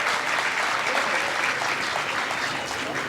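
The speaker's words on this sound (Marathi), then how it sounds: "आता दुसऱ्या टाळ्या कोणासाठी वाजवायच्या" An audience claps steadily at a birthday gathering, a dense, even wash of applause that runs the whole time.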